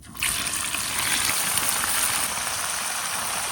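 Mrigal carp pieces rubbed with turmeric and salt sizzle steadily in hot oil, a dense continuous crackle that bursts in loud right at the start and holds close and even throughout.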